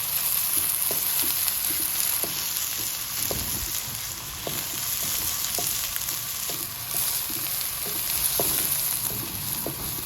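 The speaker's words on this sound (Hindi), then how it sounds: "इसमें प्याज डाल दें। अच्छी तरह इनको ब्राउन करना है।" Onions fry steadily in hot oil, browning in a pan with a continuous close sizzle and occasional soft stirring clicks, no voices.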